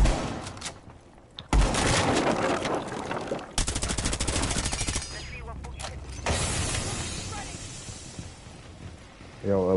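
Gunfire in the video game Rainbow Six Siege comes in sharp bursts and rapid rattling volleys, loud and close, with pauses between them and players talking over the action.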